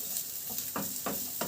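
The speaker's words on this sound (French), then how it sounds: "j'y mets les oignons et l'ail." Onions and garlic sweat in a pan, giving a soft steady sizzle broken by three brief stirring scrapes, with no talking.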